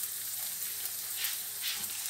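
Smoked bacon bits frying in sunflower oil, giving a steady close hiss and sizzle with bright crackling bursts, no voices over it.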